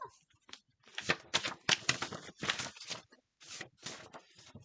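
A deck of cards being shuffled in quick bursts of riffling and flicking, several short runs separated by brief pauses, close and fairly quiet.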